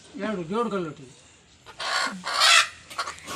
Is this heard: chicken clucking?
yes